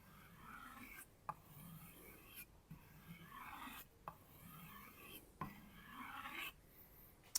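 Kitchen knife honed on a Tormek T8 sharpener with light pressure, a soft rasping scrape repeated in about six even strokes with brief pauses between, quiet and close with no talk.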